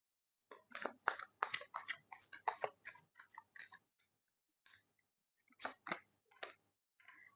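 Tarot cards being shuffled by hand make a series of soft, crisp riffling and flicking bursts in an irregular rhythm, close and quiet, with gaps of silence between.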